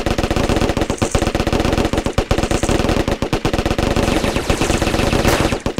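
Rapid, sustained automatic gunfire from a firefight in the UFO: Aftermath video game, loud and continuous bursts of shots with no talking over them.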